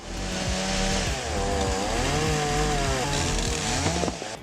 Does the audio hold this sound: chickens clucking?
no